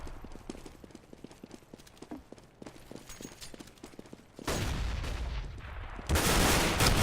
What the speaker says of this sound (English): There we go, mass fire from Neo